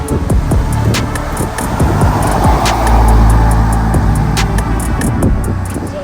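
Audi TTS four-wheel-drive sports car driving on a road, a steady close engine and tyre roar with a swelling surge midway and faint passing traffic.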